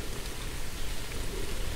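Rain falling steadily in a quiet end-of-the-world video game set among dead trees and ruins, a soft, even hiss that fills the whole stretch without breaks or voices.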